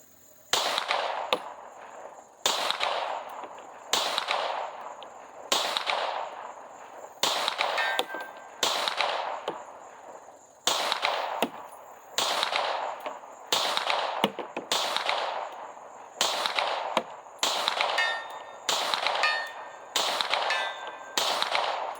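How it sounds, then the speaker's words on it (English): A Tisas 1911 DS Duty pistol with a compensator fired on an outdoor range at a 100-yard target, sixteen or so loud, sharp single shots spaced at a slow, steady pace, each with a ringing echo and no talk between. "We'll go ahead and try a few shots out at 100 and see how it does."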